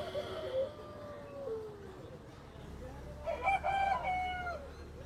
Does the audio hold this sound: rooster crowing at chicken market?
yes